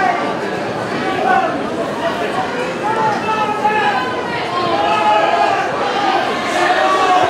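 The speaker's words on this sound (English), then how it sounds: "Crowd not happy with how long he's taking." A Gaelic football final crowd, St Colmcille's against Donaghmore Ashbourne, grumbling over a slow free kick: a dense, steady murmur of many voices with scattered shouts, running beneath a commentator's close talk.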